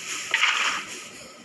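Minecraft PE water pours and sloshes in a short, bright splashing rush that swells then fades, heard alone without speech.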